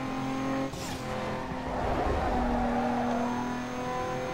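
A car drifts and slides through a corner in the racing game Need for Speed Underground 2, its tires squealing over a loud, sustained engine drone that holds steady throughout.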